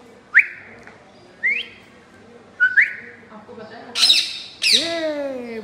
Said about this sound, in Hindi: दो दो तोते बैठे हैं।